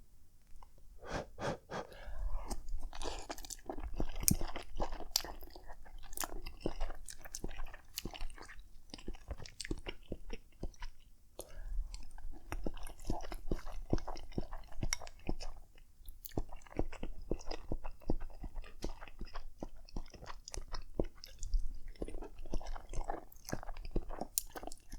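Someone chewing and eating natto on rice at close range, with steady wet, sticky mastication and occasional bites, along with audible breathing and sniffs throughout and no speech.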